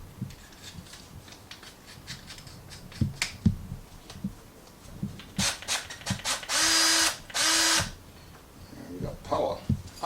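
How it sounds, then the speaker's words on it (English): Power drill boring into wood while installing blinds, with short bursts of whirring interrupted by clicks and handling noises, then two longer sustained runs; a voice talks in between. "So I'm gonna need drill to bore some wood."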